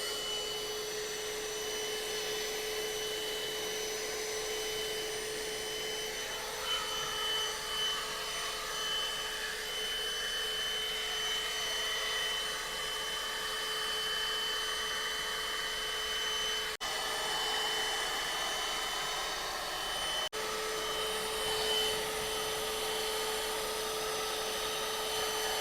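A portable vacuum cleaner fitted with an AC vent attachment runs steadily, a loud continuous whirring motor whine with a high tonal hum that holds constant throughout, with slight pitch shifts as it works.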